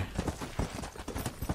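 Horse hooves clip-clop in Red Dead Redemption, a quick, steady rhythm of close hoof strikes on hard ground repeating evenly through the moment.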